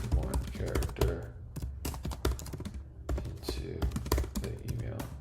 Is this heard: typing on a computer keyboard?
yes